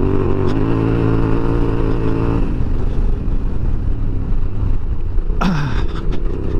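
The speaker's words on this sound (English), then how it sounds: "This engine is so good that you can kind of just leave it in third gear on roads like this." Yamaha Tenere 700 motorcycle engine held in third gear on a rough road, a steady close mid-pitched drone with constant wind buffeting, the engine note shifting slightly partway through.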